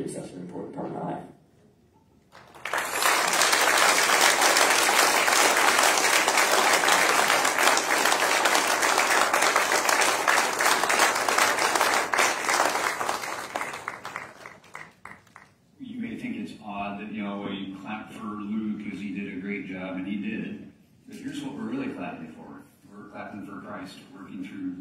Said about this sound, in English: We're clapping for 700 hours of investment in our life